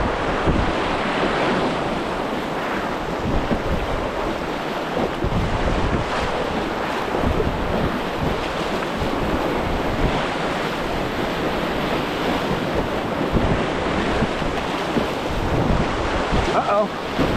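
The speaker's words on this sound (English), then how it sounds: "One of the bigger wave trains so far." Whitewater wave train on the Nantahala River heard from a paddler's boat, a steady, loud rush and churn of water with wind buffeting the microphone throughout.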